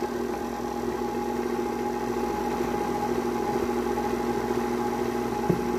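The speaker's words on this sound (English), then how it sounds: "we're going to blend it together, or whisk it together" An electric blender or whisk mixes a chocolate mocha cookie crumble drink, giving a steady, fairly loud motor drone that holds unchanged for the whole stretch with no talking.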